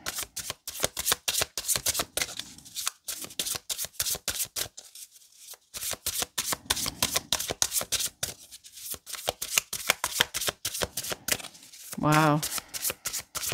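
Tarot cards being shuffled by hand in a rapid, steady riffling rhythm, close and crisp, with a brief pause midway and a short spoken exclamation near the end.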